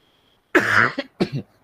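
Two or three harsh, close coughs in quick succession, loud against an otherwise quiet background.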